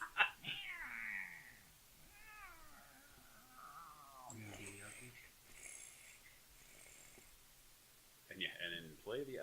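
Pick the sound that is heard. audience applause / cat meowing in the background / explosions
cat meowing in the background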